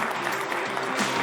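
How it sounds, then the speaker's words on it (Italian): A short burst of applause from an audience at an Italian sports broadcast event, steady clapping throughout the brief moment with no one speaking over it. "facciamo un applauso al presidente"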